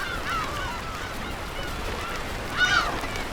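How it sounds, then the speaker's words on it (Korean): Black-tailed gulls calling over a rocky island breeding colony, with scattered honking cries, one near the start and a louder one near the end, over steady wind and surf noise. "새끼를 먹이기 위해 먹이 사냥에 나선 괭이갈매기"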